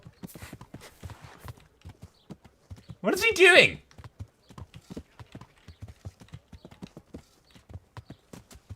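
Steady horse hooves clop in a quick, even rhythm throughout in the video game Kingdom Come: Deliverance, with someone talking briefly and a louder burst of sound in the middle.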